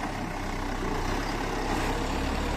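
An M9540 four-cylinder turbocharged tractor engine runs at a steady, loud, close drone, a continuous rumbling roar with no pauses or voices.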